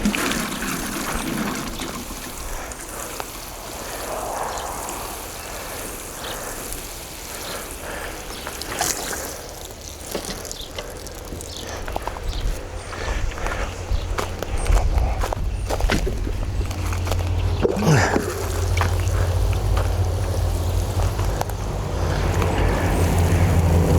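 Water pours and splashes steadily onto newly planted peas in a garden bed, a continuous rushing wash with a few louder splashes and faint movement nearby.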